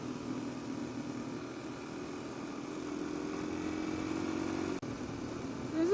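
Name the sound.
Yamaha XT motorcycle engine while riding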